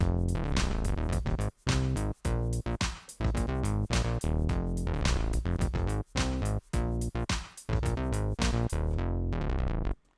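A buzzy synth bass plays a choppy line of short notes with brief gaps, some notes gliding in pitch between one another.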